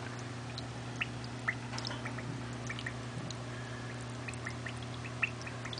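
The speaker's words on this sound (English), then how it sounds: "we got her a nice little water fountain" Small water fountain for a pet lovebird trickling softly and steadily, faint and close, with scattered light drips and a few quiet bird chirps over a low background hum.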